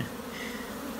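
Africanized honey bees swarming at a hive inside a shed, a close, steady buzzing drone with a wavering pitch and no talking.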